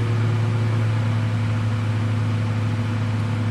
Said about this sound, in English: So we'll just turn on the microwave.